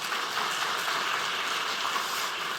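A congregation applauding in church, a steady wash of clapping hands at moderate distance, continuous and even throughout with no voices over it.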